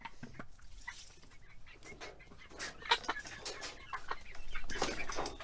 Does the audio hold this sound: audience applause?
no